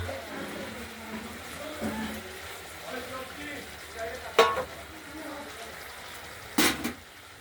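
Masala mixed with a little water sizzles and is stirred in a pan while cooking katla fish curry, a faint low hiss with soft scraping and a couple of sharper clinks of the utensil.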